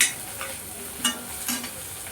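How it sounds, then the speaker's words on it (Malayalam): Onions and curry leaves sautéing in a pan, a soft steady sizzle with a couple of brief stirring scrapes and clinks; no voices. "ഒന്ന് ഒരു ഗോൾഡൻ നിറമായി വരണം, അതുവരെ സവാള വഴറ്റുക"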